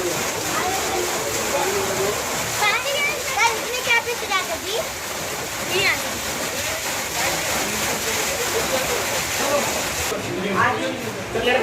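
Water pours continuously at the Panchakki water mill in Aurangabad, a steady broad rushing roar that fills the scene while people, including children, talk nearby over it.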